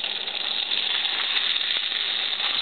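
Wontons fry in hot oil, a steady, dense, close sizzle that hisses evenly throughout without pause or talk.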